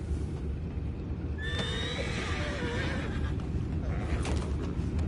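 A horse in Red Dead Redemption 2 whinnies loudly in a long, wavering neigh over a steady background rumble, with faint hoof sounds.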